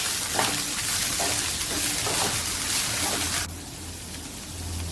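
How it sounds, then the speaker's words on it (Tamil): Green beans frying in oil for a beans curry while being stirred: a loud, hissing sizzle with soft periodic scraping strokes, then dropping abruptly to a quieter sizzle near the end. "பீன்ஸ் நல்லா எண்ணெயில் நல்லா வதங்குறாப்புல நல்லா கிண்டி விடணும்"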